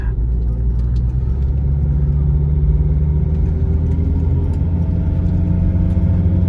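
A car engine pulls steadily uphill after a swirl flap repair, with a loud, continuous low rumble that holds throughout and no other sound standing out.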